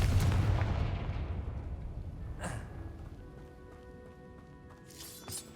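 A Confringo blasting spell goes off in the video game Hogwarts Legacy as a deep, loud boom that rumbles and slowly fades over several seconds, followed by a few fainter game effects.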